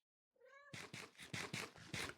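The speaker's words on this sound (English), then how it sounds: "Oh, I woke my cat up." A pet cat gives a string of close, clear meows after being woken, starting with one drawn-out call and then six or so short, evenly spaced cries, with no talking.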